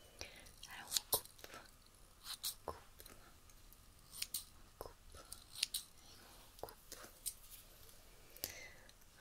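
Scissors snip repeatedly close to the ear during an ASMR reiki session, crisp metallic cuts arriving in small bursts every second or so, with soft whispered speech around them.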